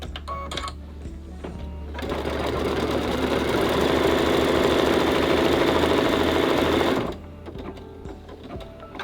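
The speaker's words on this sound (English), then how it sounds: "then we'll sew stitch sequence 2 to tack down the banner" An in-the-hoop machine embroidery design being stitched, tacking a fabric banner down inside the hoop: a loud, steady, rapid mechanical whirring with dense stitch rhythm that runs for about five seconds, then stops.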